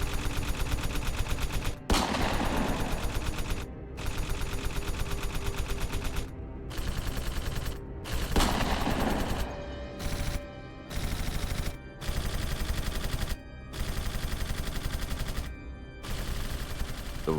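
Gunfire as a gunman opens fire on riders who walked in after abandoning their bikes; repeated bursts of shots fill the clip, broken by brief gaps, loud and sustained with no talk.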